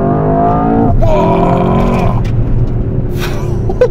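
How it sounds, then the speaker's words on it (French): A Mercedes-AMG S63 E-Performance rated at 802 hp and 1430 Nm pulls away hard under launch control, a loud rising engine note with a brief squeal-like tone, while a voice exclaims over it. "Oh, ce bruit au launch control, il était vraiment bizarre."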